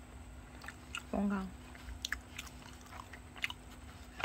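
Soft, close biting and chewing of a crisp Paris Baguette macaron, with small crunchy clicks and quiet mouth sounds, while a person murmurs briefly in Korean.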